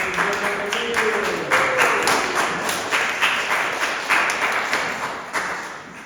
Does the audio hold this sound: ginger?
no